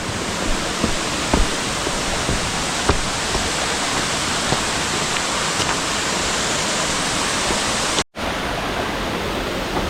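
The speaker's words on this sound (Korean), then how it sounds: "제5폭포 높은 폭포입니다" The fifth of twelve falls at Naeyeonsan, a high waterfall, roars in a steady, loud, broadband rush, with a few faint knocks and a momentary dropout near the end.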